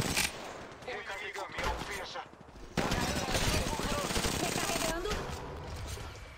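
Rapid bursts of gunfire in Apex Legends Mobile rattle almost continuously, loud and dense, with a short lull before the shooting resumes.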